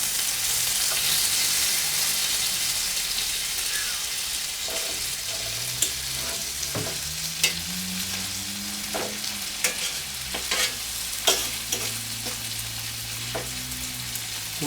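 Venison fries on a wood stove in the cabin, a constant close sizzle with repeated sharp utensil taps and scrapes every second or two, alone without speech.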